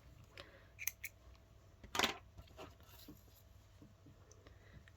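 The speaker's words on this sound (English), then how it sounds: "I've got some snips." Snips cut through pearl cotton thread with one short, crisp snip in the middle of an otherwise quiet moment, with a few faint handling clicks around it.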